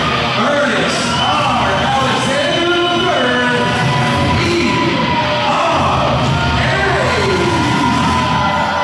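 Loud wrestling crowd at a WXW Star Slam show roars with cheers, yells and whoops, a dense sustained ovation filling the whole stretch with voices rising and falling.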